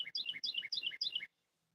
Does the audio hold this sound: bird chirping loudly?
yes